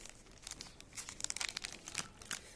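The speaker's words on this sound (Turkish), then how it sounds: "Şimdi ürünün Poşetini açalım bu arada galiba." Plastic zip-lock bag on a small USB HDMI video capture device being opened carefully, quiet crinkling and rustling in short irregular bursts close to the microphone.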